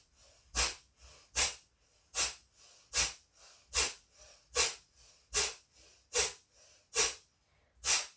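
Forceful breathing exercise in yoga, with a slow inhale and a sharp exhale pushed out through the nose. The exhales come as about ten strong, evenly spaced bursts, loud and close.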